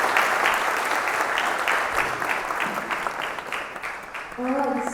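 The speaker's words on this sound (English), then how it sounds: "please give Gavin a big round of applause" Audience applause at a Mumbai lecture on the JAM Tour 2025 fills the hall with steady clapping, then tapers off toward the end as a voice cuts in briefly.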